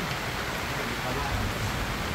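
Rain pours steadily in a dense, even hiss with no break, loud and close, filling the whole moment.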